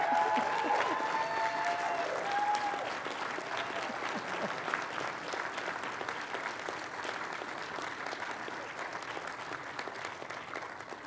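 Sustained applause from an audience at a regular city council meeting, steady dense clapping filling the room for about eleven seconds and easing slightly toward the end, with no speech over it.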